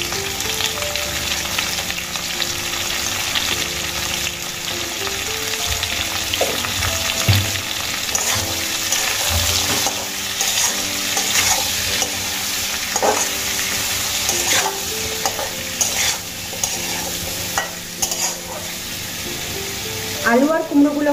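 Potatoes and pumpkin fry in a pan with green chillies and turmeric, producing a loud continuous sizzle with steady stirring and scraping of a utensil against the pan, clattering more toward the end.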